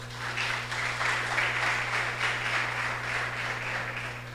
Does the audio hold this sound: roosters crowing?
no